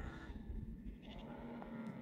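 Sheep grazing on a mountain meadow bleat faintly amid a dense, steady outdoor rumble, a single drawn-out call half-buried in the background noise.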